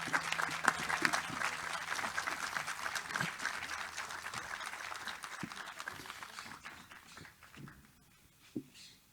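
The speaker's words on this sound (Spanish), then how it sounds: "un gran aplauso para ellos" A crowd at a union commemoration event applauds steadily, a dense patter of clapping that holds for several seconds before thinning out and fading, with a few scattered claps at the end.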